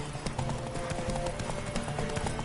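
Horse hooves clip-clop at a steady galloping rhythm in The Witcher 3, close and continuous over a low game soundscape, with no talk heard.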